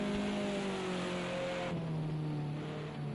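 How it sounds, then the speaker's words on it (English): A touring race car braking hard at Monza, its engine note dropping in steady downshifting harmonics with a loud, close, continuous roar and no talk over it. "Listen to that car under braking there."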